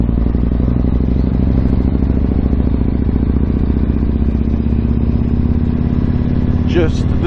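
Yamaha MT-01 motorcycle on a morning commute in low gears, a loud steady engine drone with wind rush throughout, and a brief higher sound near the end.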